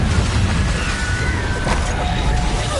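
A Confringo fire spell detonating in the Hogwarts Legacy video game gives a dense, continuous roaring blast with rumbling low end that holds steady and loud throughout, with no voices over it.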